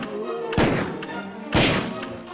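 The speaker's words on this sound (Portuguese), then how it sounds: "3 tiros de Magnum na cabeça." Magnum revolver shots against a zombie in the PS1 Resident Evil game, two loud booming blasts about a second apart, each trailing off into a long decaying echo.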